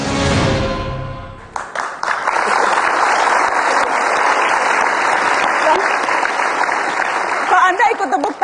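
Studio audience applause during a televised football talk show, starting after a musical sting fades and building into loud, sustained clapping that carries on to the end.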